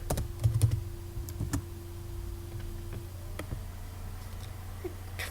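Someone types on a computer keyboard, with scattered light key clicks and a short cluster of firmer taps at the start over a faint steady hum.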